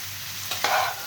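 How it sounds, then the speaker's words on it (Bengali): Lightly pre-fried shrimp gets stirred in a hot pan: a low sizzle runs throughout, with two short scraping stir strokes near the end, and no voices. "চিংড়ি মাছটাও হালকা নাড়িয়ে নেব"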